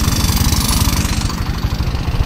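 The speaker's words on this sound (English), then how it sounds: "The drilling is still ongoing" Steady, heavy machine clatter with a fast low pounding rhythm, loud and continuous throughout, from a rock drilling rig hammering away nearby at a large quarry in Tanzania.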